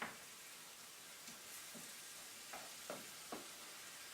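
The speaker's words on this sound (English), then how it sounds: "while we have the vegetables cooking and sauteing" Vegetables sauté in a hot pan, a steady close sizzle running throughout with a few sharper crackles and stir clicks breaking through.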